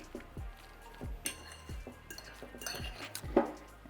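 Sushi taco ingredients are stirred in a bowl with a utensil, making a quick series of clinks and scrapes against the dish, close and fairly quiet, in an irregular rhythm.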